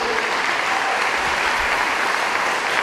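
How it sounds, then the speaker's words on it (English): Sustained audience applause fills a school district gathering, dense and steady throughout with a few whoops rising over the clapping. "how about a quick round of applause for our judges?"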